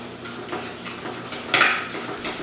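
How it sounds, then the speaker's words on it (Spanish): Whisk clinking against a bowl while beating a sauce of black pepper and mustard, several quick light metallic taps and scrapes with one sharper clatter near the end. "Esto ahora lo revolvemos bien, lo batimos bien"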